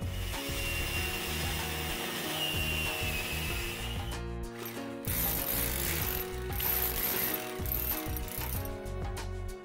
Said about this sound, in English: we can start by cutting a hole in the wall